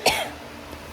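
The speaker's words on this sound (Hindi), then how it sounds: "बहुत ज़्यादा खांसी हो गई" A single sharp cough bursts out at close range, followed by a short rough tail and a faint breathy noise.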